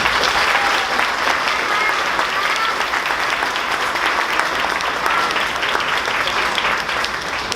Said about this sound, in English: Will you please give them a round of applause?